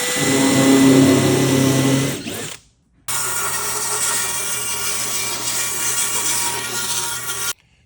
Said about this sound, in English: this nifty little tool is called a plug cutter. It's just going to cut a little tapered plug